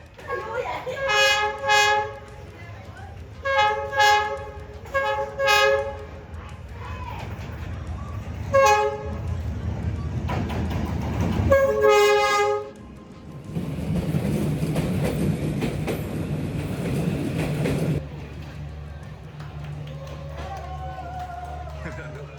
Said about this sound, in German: kommt gleich noch ein Zug, den wir natürlich für euch auch mitnehmen